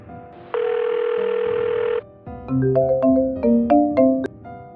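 A telephone call tone plays close and clear: one long steady tone, a short gap, then a quick run of stepped beeps at different pitches, like keys being dialed.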